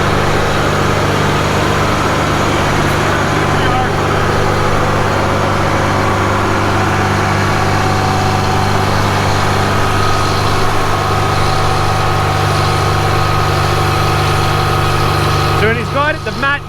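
A snow groomer's diesel engine runs steadily close by, a low droning hum with a constant tone throughout, under people talking.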